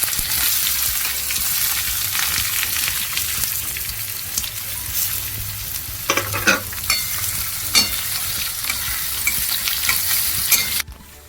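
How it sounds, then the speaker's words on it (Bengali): Onion frying in a pan with cumin and curry leaves for spicy semolina upma: a constant loud sizzle with occasional stirring clatters and a faint hiss of running water in the background, and no voices. "পেঁয়াজটা অল্প ভাজা হয়ে গেছে।"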